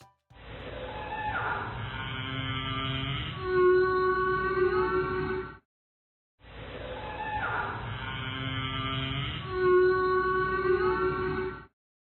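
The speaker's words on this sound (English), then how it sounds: "Let's listen to the majestic sounds of a whale." Two long, identical whale calls, each a sustained tonal moan with rising and falling harmonic sweeps, separated by a brief silence and heard clearly on their own.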